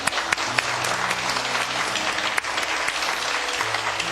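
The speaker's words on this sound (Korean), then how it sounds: "다시 한번 우리에게 복을 주시는 하나님 앞에 영광의 박수를 올려드립니다." Church congregation applauding during a Korean worship service, a loud, sustained wash of many hands clapping with a few sharper individual claps standing out, and no speech over it.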